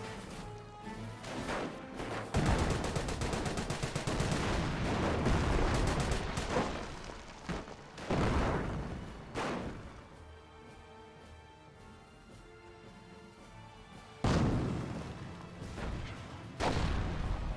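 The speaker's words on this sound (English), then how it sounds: "Good mortar hits there." Mortar rounds and gunfire landing in the video game Company of Heroes, heard as loud, crashing impacts and rattling bursts spread across the battle with quieter gaps between the hits. No voices are heard.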